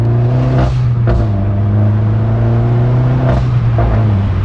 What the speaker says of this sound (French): comment ça se fait du coup que tu as ce craquement au niveau du passage de rapport?